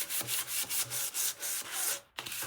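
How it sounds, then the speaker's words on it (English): Light hand sanding of a thrifted holiday item between polyacrylic coats, steady rhythmic rubbing strokes close up, about eight back-and-forth passes with a brief pause near the end. "It's a super light sand."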